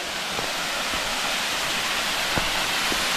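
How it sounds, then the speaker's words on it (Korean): Water pours steadily down an artificial waterfall beside a mountain trail, a dense continuous roar that stays close and even throughout, with a few faint knocks beneath it and no voices. "아, 인공 폭포 같습니다."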